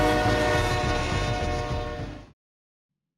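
Subway trains roar through a station in the Party Animals free-for-all map, a loud sustained rumble with a horn-like tone that fades and cuts out abruptly, followed by about a second of silence.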